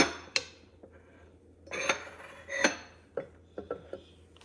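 Quiet kitchen clatter as a bowl of fried bitter gourd is covered: a few sharp dish and lid knocks, with light scraping contacts scattered between them, close by and with no talk.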